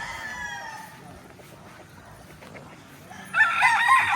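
A gamefowl rooster on a Mount Banahaw farm crows near the end, a loud, close, strained call bursting in after quieter background sounds, with faint voices and other bird noises earlier.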